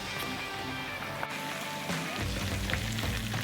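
Chicken fries in hot oil for a chicken qorma, a close, steady crackling sizzle with bubbling that runs throughout and grows slightly fuller toward the end.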